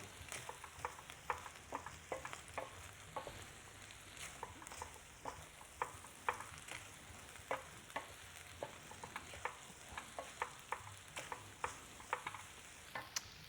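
Pasta tossed back into a pan and mixed through creamy chicken sauce gives soft repeated scraping and clacking strokes over a faint sizzle, fairly quiet and close, with no voices.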